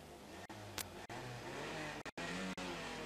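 A Peugeot 205 hill climb car with mechanical problems makes a slow, sedate start. Its engine drones steadily at a distance, with a few brief dropouts and a sharp high blip.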